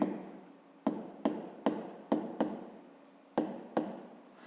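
Pen writing by hand on paper, a series of short, close scratchy strokes with brief pauses between them, quiet and alone.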